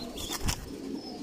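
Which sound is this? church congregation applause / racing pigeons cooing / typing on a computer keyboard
racing pigeons cooing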